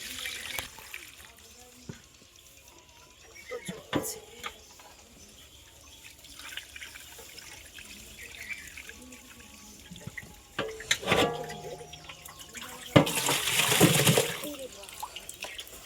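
Water is splashed and poured out beside freshly caught pond snakehead fish being cut, coming in short bursts of trickling and a louder gush near the end, with someone speaking between them.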